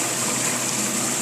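A cheap Harbor Freight bilge pump pushes water into a sluice on a home-built trommel, giving a steady, close broadband rush of flowing water with no break for the whole short stretch.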